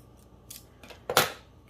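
Scissors snip through paper scraps in a few short, crisp cuts, the last one loudest and closest, with quiet pauses between them.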